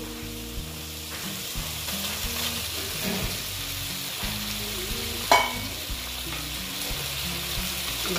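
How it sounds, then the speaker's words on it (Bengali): Eggs and potatoes fry together in a pan for an Indian egg-potato curry, with a steady close sizzle and crackle broken by scraping stirs and one sharper clatter midway. "দিয়ে আবার একটু ডিমের সঙ্গে কষিয়ে নিচ্ছি।"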